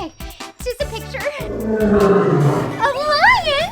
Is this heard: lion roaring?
yes